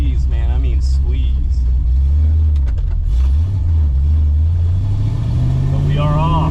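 A 1991 Foxbody Mustang engine rumbles close up, rising in pitch as the car pulls away, with someone talking over the idle and acceleration.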